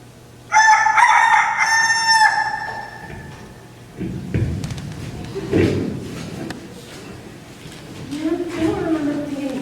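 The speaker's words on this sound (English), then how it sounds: "And that was the rooster, right?" A rooster crows loudly and close by in a long, drawn-out call at the start, followed by thumps and a shuffling sound, and then faint voices at the end.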